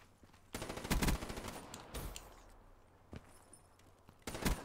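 Bursts of HVK-30 assault rifle fire in Call of Duty: Black Ops 3 Gun Game, several short rapid volleys separated by quieter pauses, heard fairly close with no talking.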